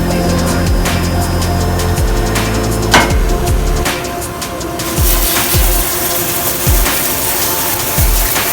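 A Honda D16Y8 VTEC cylinder head from a Civic EG being washed in a hot bath parts washer, steady loud rush and gush of liquid with recurring low thumps and sloshes throughout.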